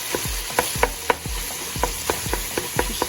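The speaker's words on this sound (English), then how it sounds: "I'm gonna finish letting my sausage still browning" Sausage browns in a pan for Zuppa Toscana soup, a constant frying sizzle broken by repeated scraping stirs of a utensil against the pan, close by with no talking.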